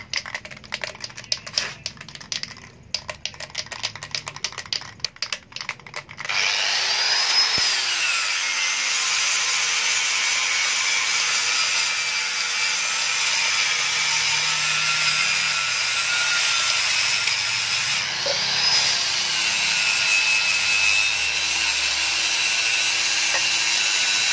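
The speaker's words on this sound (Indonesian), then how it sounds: "kandang kecil yang baru selesai saya las dan baru saya mau gosok" A small freshly welded metal cage is worked with a power sander or grinder after a stretch of irregular rattling and tapping, with a loud continuous whining grind that pauses briefly before resuming.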